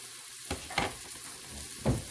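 Apples for an apple cake softening in a pot, a continuous soft sizzle and bubbling with a few brief stirring scrapes, close and moderately quiet, no talking.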